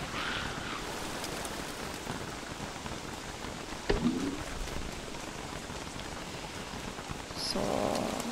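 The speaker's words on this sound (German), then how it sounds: "So, weil es gerade regnet." Rain falls steadily in a video game, a faint even patter with no talk and a few brief louder game sounds.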